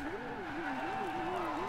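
Porsche Carrera GT engine in Forza Horizon 2, a steady sustained drone with pitch rising and falling in gentle waves as the revs shift, loud and continuous throughout, no talk.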